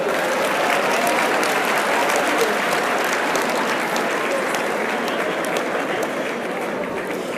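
A live audience at a leadership conference talk applauds loudly and steadily, dense clapping filling the hall for several seconds with a few faint voices mixed in before slowly tapering.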